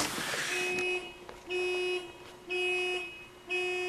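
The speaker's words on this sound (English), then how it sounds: "always setting off their car horns at ungodly hours of the night" A car horn sounds at night in repeated long, even blasts about half a second apart, loud and steady, with a brief noisy rush at the start.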